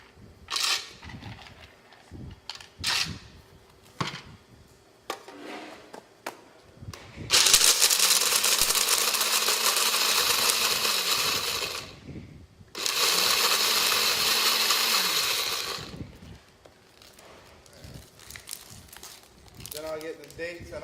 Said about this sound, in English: The first thing I do is I get the almonds and I kind of break them up